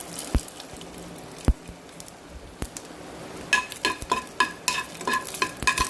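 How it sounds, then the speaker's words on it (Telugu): Onion and other chutney ingredients fry in a pan on low heat, starting with a quiet hiss and occasional sharp utensil knocks, then rising into a louder run of spattering pops and stirring scrapes near the end. "అది వేగుతూ ఉంటుంది కదండి"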